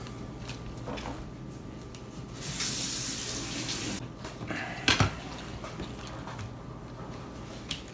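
Tap water runs into a sink while pork tenderloin is rinsed under it, a steady rushing stream lasting about a second and a half, framed by light clinks and handling noises in a quiet kitchen.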